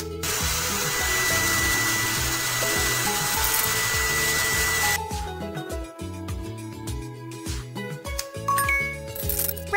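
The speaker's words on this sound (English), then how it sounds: "Use the hair dryer." A loud hair dryer in the Oddbods kids' styling game blows as a steady whirring hiss, then cuts off into a run of playful chimes and clinking game sounds.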